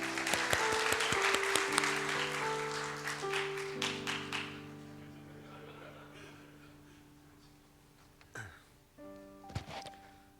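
Church congregation applauding at a Friday worship service, a dense burst of clapping for the first four seconds over sustained organ or keyboard chords, then fading out while the music holds and a few stray sounds follow.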